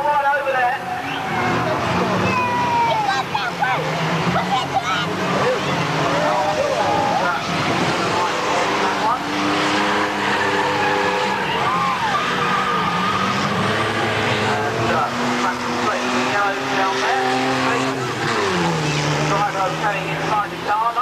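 Unlimited banger racing cars at Swaffham in 1999 roar and grind through a pile-up on the back straight, engines droning steadily under an announcer's running commentary.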